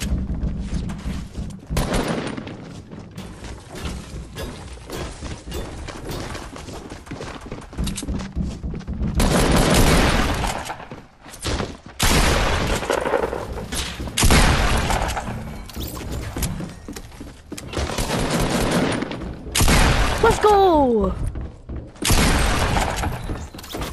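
Loud bursts of pump shotgun fire and crashing impacts in a battle-royale style video game, several heavy blasts spread across the stretch with brief lulls between them.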